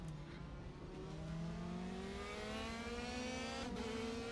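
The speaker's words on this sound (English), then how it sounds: "I hear a lot of redlining." Race car engines in a DTM sim racing game at the Lausitzring scream near the redline, their steady high-pitched whine climbing gradually as they hold at full throttle, loud and continuous throughout.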